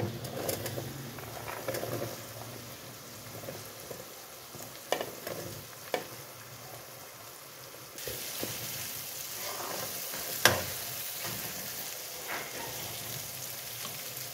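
Vegetables for a spicy mixed vegetable pickle sizzle softly in a pan, a steady gentle hiss with occasional clinks and stirring scrapes, no speech, and the frying grows slightly louder partway through.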